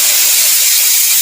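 A pressure cooker vents steam in a home kitchen, a short, loud, steady hiss that stays bright and airy throughout with no voices over it.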